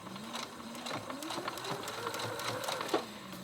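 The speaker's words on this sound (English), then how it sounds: "I am actually just going to be using a straight stitch on my sewing machine." A home sewing machine running a straight top stitch on a hoodie, a quiet rapid mechanical clatter and whir with a steady needle rhythm, faint and close, no speech.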